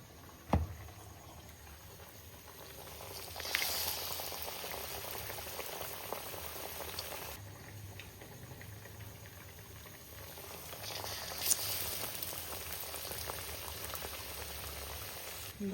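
Banana fritters (pazham pori) sizzle in hot oil with a steady, dense bubbling crackle, swelling louder in bursts as batter-coated pieces drop in, heard close and continuously with no talk.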